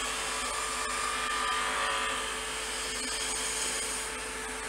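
Wood lathe spinning a workpiece while a skew chisel cuts, a steady close whirring hum with a continuous hissing cut over it and no talk.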